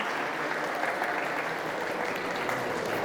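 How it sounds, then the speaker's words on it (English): Wedding guests at a ceremony in Austin, Texas applaud the couple, a dense, steady wash of many hands clapping at close range that holds evenly for the whole stretch, with no talk over it. "Everyone, big round of applause for Mihir and Shivani."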